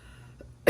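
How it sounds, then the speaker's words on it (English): A single short cough from a woman, a sharp burst at the end after near silence. "sorry, I got a little cough"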